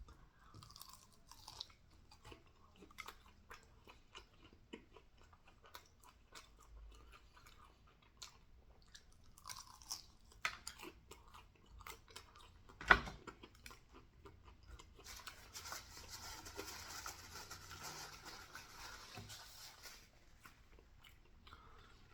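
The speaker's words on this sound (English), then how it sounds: "I'm going to bite into it." A Popeyes ghost pepper chicken wing with dry rub is bitten and chewed close up, with quiet, irregular crunchy bites and mouth sounds, one sharp crunch standing out midway and louder chewing near the end.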